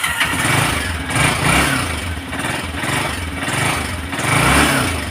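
A Honda motorcycle engine is started and runs with a low, pulsing mid-range rumble that swells and eases in steady waves, loud and close, with no talking.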